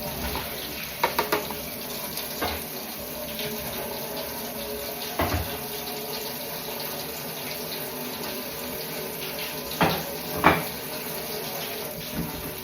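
Water runs steadily from a tap in a continuous hiss, with occasional clunks and knocks around it and no one speaking.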